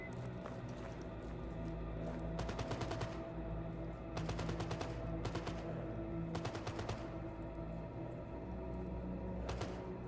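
Zombies firing guns in the shooter game Stalker GAMMA: repeated bursts of rapid automatic gunfire, several separate volleys over a steady low background rumble, moderately distant.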